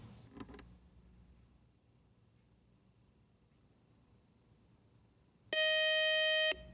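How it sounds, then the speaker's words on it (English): A loud, steady electronic quiz show final buzzer tone sounds for about a second near the end, after a brief clatter and quiet room noise. "And that buzzer is our final buzzer"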